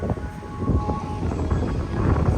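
Strong wind buffeting the microphone at a beach, a loud, continuous low rumble with gusty surges throughout.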